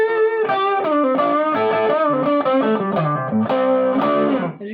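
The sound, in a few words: guitar through MXR Custom Badass '78 Distortion pedal, gain raised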